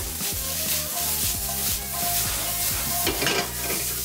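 Seasoned courgettes sauté in olive oil with salt and pepper in a pan, a steady sizzle close up with rhythmic stirring scrapes, while background music with a regular beat plays throughout.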